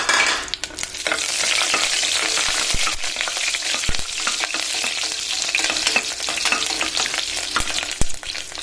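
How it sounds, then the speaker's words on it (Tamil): Food sizzles steadily in a pan as vegetable pulao cooks, with occasional sharp clinks of stirring cutting through the constant frying hiss; no one speaks. "இது பொரியட்டும்."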